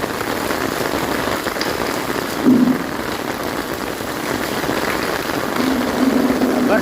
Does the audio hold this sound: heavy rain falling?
yes